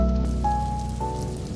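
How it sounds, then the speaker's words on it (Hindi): Rain falls steadily in a soft, continuous patter, with a low background hum and faint sustained musical tones running beneath it. "ये हसीन बरसती बारिश"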